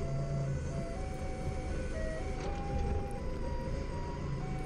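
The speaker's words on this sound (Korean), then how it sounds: "자, 조금 더 후진을 하도록 하겠습니다." A truck backs up slowly toward a shipping container while a forklift works nearby. A tonal reversing alarm chimes in a repeating melodic pattern over a steady low engine rumble, moderately loud with no talk.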